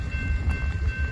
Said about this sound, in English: Here come the horn.